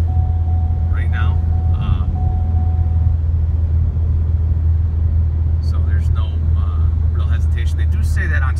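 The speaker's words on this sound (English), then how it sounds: "And we're driving down the road now, fairly average speed. We're at 2000 RPM" A Whipple-supercharged 2016 Shelby GT350 cruises at about 2000 RPM at average road speed, producing a steady, loud low rumble. Someone talks over it in short stretches.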